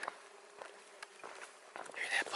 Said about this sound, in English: hear that buzzing?